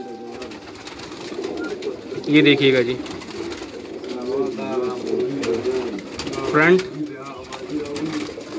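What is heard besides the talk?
pigeons cooing on a Karachi rooftop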